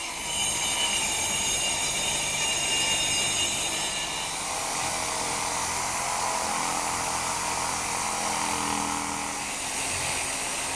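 Loud, steady whine of a power tool cutting through a counter of masonite over plywood, one sustained close cut with no talking.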